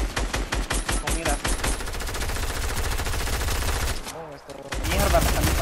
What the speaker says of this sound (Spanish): me están disparando de lado